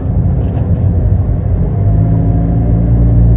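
A 2018 Daihatsu Ayla R Deluxe with automatic transmission in D2 drops into first gear with a jerk, its engine rumbling loud and low inside the cabin and the tone shifting partway through.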